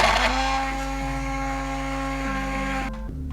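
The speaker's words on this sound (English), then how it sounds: "All we need now is the trusty handheld immersion blender, and away we go." A handheld immersion blender whirs through a pot of vegan soup with a loud, steady motor drone that holds a constant pitch with slight shifts, then cuts off abruptly near the end.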